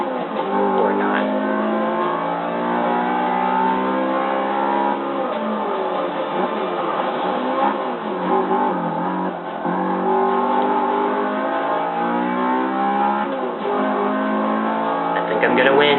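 A race car engine in Forza Motorsport 6 on Xbox One revs and climbs through the gears in repeated rising sweeps, loud and continuous, with someone talking over it.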